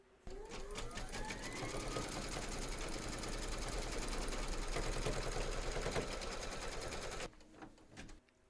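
An embroidery machine stitches round 8 in green thread on an in-the-hoop teddy and unicorn bag, with a steady, rapid mechanical patter for about seven seconds before it stops. No one speaks.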